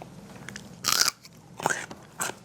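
Someone bites into a stalk of celery: a sharp crisp crunch, followed by two softer crunching chews, close and fairly quiet.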